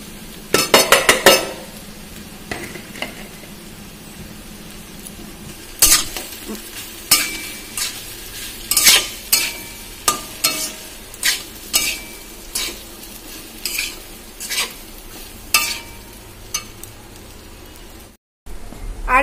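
Sago pearls with boiled potato stirred in a frying pan for sago pulao, a steady sizzle under repeated sharp scraping strokes of the spoon, close and fairly loud, with a cluster of clatter at the start and a brief dropout near the end.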